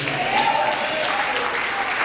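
A church congregation claps for the Lord during a sermon by Pastor Hector Linares, a dense continuous wash of applause with a faint tone drifting through it.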